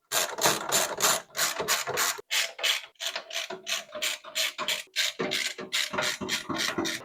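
A screwdriver turns a stubborn screw out of a PC motherboard, close rapid ratcheting clicks in quick bursts with short pauses between strokes.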